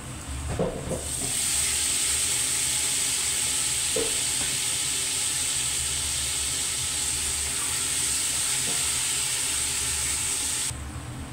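Tomato dropped into a pan of frying meat and vegetables, a brief clatter and then a loud, steady sizzle and hiss that holds for several seconds with faint stirring scrapes, then cuts off.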